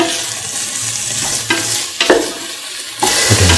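Carrot rice fries in a pan under vigorous stirring, with a continuous sizzle broken by several scraping strokes and clatters of a spoon against the pan, loud and close with no speech.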